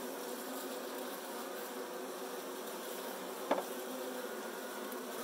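Saskatraz honey bees buzz steadily during a hive install, a soft continuous drone of many insects close by with one brief louder bump partway through.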